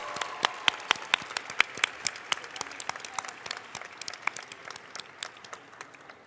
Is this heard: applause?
yes